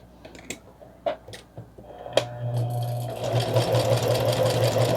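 A sewing machine stitches a fabric toiletry bag, starting with a few clicks and handling taps, then running in a steady, close, mechanical rattling hum for the last few seconds.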